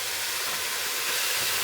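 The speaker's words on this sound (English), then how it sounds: "let's just chuck in the mince, see if that calms down the steam a little bit" Vegan mince hitting a hot pan gives a dense, continuous hiss of sizzling and steam, loud and close, with no voices.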